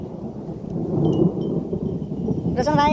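Deep, loud, continuous rumbling of thunder in an outdoor rain and wind storm, with heavy rain hiss throughout and someone briefly speaking near the end.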